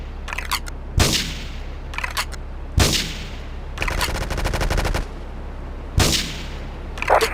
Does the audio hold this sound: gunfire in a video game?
yes